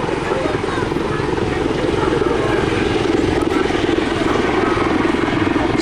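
A Royal Navy Black Cats display helicopter at the Southport Airshow makes a loud, continuous rotor and engine roar, with a commentator's voice over it.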